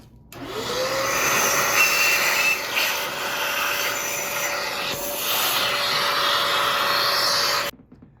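A vacuum motor whines steadily for several seconds with a rising tone at start-up, loud and close, then cuts off abruptly, used while repairing stripped threads on a Mitsubishi Evo 8 transmission.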